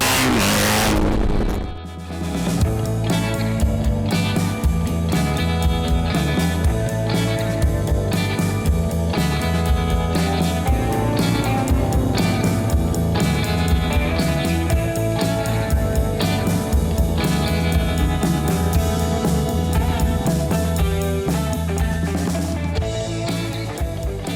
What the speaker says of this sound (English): What would you like to know about this motorcycle? It's real loud.